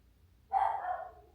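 A single short bark from a dog, fairly close and moderately loud, rising sharply and trailing off against a quiet indoor background.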